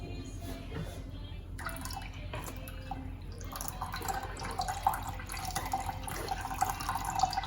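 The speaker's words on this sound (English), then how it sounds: "Let's put it down and it will drain by itself." Blended apple juice drains through a strainer on its own, a soft steady trickle and patter of dripping liquid that stays faint and continuous, with light clinks and handling noises now and then.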